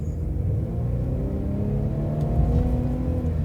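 Mercedes-Benz C300 2.0L turbo engine in a 2021 AMG Line W205 C-Class, cruising in eighth gear at low revs. A steady, smooth low rumble and whir heard from inside the car, continuous with no talk.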